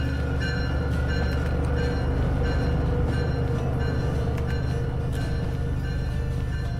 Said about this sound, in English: Engage the dynamic brake.